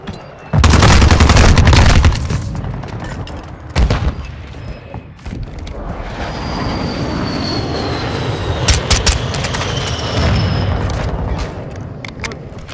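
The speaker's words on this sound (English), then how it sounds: "Throwing a frag!" A frag grenade goes off in the Modern Warfare II shooter game, a loud heavy boom followed by bursts of gunfire and a lingering rumble of battle with aircraft-like drone in the background.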